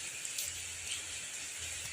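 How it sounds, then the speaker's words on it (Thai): Steady rain falling outdoors, a soft continuous hiss of drops on surfaces with no talk, moderately faint and even throughout. "ตอนนี้ฝนมันตกนะครับ ฝนตกนะครับ"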